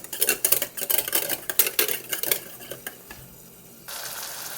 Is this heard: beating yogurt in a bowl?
yes